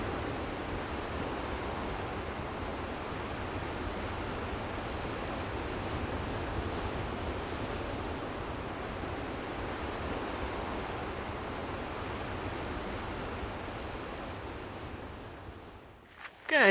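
Surf washes onto a beach on New Zealand's North Island in a continuous broad rush, with wind buffeting the microphone and no one speaking until a brief handling knock at the very end.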